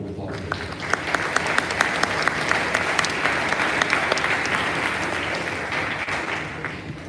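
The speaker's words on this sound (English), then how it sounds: "Round of applause." Sustained audience applause fills a convocation ceremony hall, dense steady clapping from a large crowd with a few sharper claps standing out, holding for several seconds.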